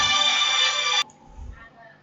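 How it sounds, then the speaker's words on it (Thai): A mobile phone ringtone sounds loudly for about a second and then cuts off abruptly, followed by quiet room tone and a faint low murmur. "เดี๋ยวผมขอรับโทรศัพท์"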